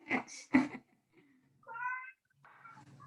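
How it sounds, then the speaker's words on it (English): An angry, annoyed cat lets out a few loud, drawn-out meows near the microphone indoors, with short pauses between the calls and no talking. "Oh my God, that cat is so mad."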